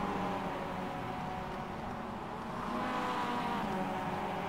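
MX5 race cars lapping Oulton Park in a racing video game, a continuous steady engine drone with a slight dip and swell, no talk.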